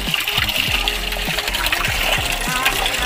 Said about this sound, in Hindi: देखो ठंडे ठंडे पानी से नहा रही है मना भी नहीं कर रही नहाने से